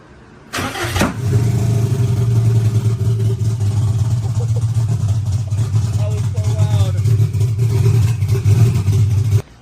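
A modified Subaru engine fitted with new injectors cranks and catches abruptly, then runs loud and close at a rough, uneven idle with a lumpy low rumble that carries on until it cuts off at the end.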